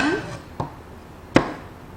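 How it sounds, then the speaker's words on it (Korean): Knife chopping peeled chestnuts into quarters on a cutting board while preparing Korean rice cake, two sharp separate thuds, the second louder, with a voice briefly heard at the start. "밤 또한 적당한 크기이기 때문에 2등분, 4등분, 6등분 정도 대추, 호박과 비슷한 크기로 잘라주시면 됩니다"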